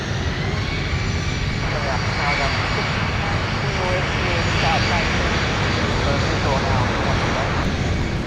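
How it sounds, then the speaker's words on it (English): A United Boeing 737 in Star Alliance livery departs MSP airport on a winter day, its jet engine roar steady and loud throughout, with faint voices underneath. "Here's our Star Alliance livery, United 737 headed back out."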